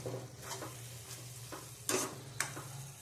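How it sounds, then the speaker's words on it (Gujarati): A spoon stirs green onion curry in a pan over gentle frying sizzle, with a few soft scrapes and two sharper clinks against the metal, close up with no talking. "અને એને આપણે મિક્સ કરી દઈશું"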